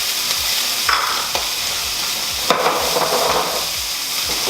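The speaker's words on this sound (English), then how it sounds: "Throw in a few tomatoes to blister in the hot pan." Potatoes, peppers and tomatoes sizzle loudly in a hot pan, a continuous close crackle punctuated by several scraping stirs and clatters of the utensil against the pan, no voices.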